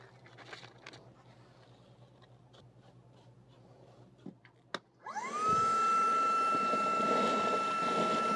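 Hyper Tough 20 volt brushless cordless vacuum picking up small cardstock squares: a few quiet taps and rustles, then the motor starts with a rising whine and runs loud and steady with a high tone.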